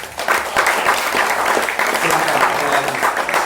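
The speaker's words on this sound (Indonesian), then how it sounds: "Insya Allah, tepuk tangan." Applause from a gathered audience at an Islamic religious study gathering, brisk and fairly loud clapping filling the space for a few seconds with a faint voice underneath.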